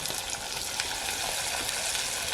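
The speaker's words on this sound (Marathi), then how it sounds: "फ्राय करायच्या गोष्टी कधी पण स्लो सोडायच्या म्हणजे म्हणजे कसं तेल पण उडत नाही" Cabbage manchurian balls deep-fry in hot oil over a wood-fired village stove, giving a dense, even sizzle and crackle at close range that carries on steadily with no talking.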